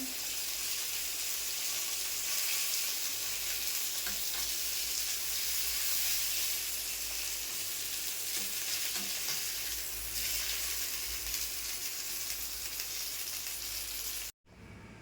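Mackerel (bangda) pieces shallow-fry Malvani-style in a pan and get turned over, making a constant close hiss and sizzle with a few soft clicks of handling and no talking.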